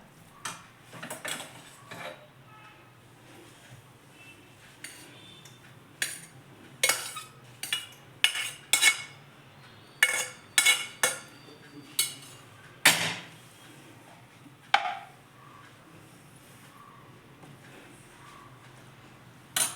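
A spatula or spoon clinks and scrapes against a pan while cooked rice is mixed for vegetable fried rice, producing irregular metallic taps and knocks, some sharp and close, with quieter gaps between.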